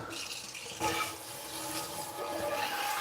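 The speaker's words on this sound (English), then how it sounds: "I just put this in the sink, give it a quick rinse off." Water from a kitchen sink tap runs steadily over a pan being rinsed, a continuous splashing hiss that swells slightly after the first second and carries on to the end, close and moderately loud with no talking.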